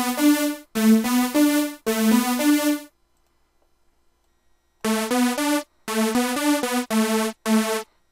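A Teensy-based seven-oscillator detuned synthesizer plays dry, reverb-free notes in short bright bursts, a quick phrase, a two-second silence, then another run of notes, each cutting off cleanly with no tail, alone without talk.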